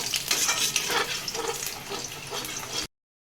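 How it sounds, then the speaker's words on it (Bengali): Chopped garlic sautéing in hot oil in a pan while cooking dry chilli chicken, giving a steady bright sizzle with light stirring scrapes that cuts off abruptly near the end. "রসুনটাকে আমি একটু সটে করে নেব।"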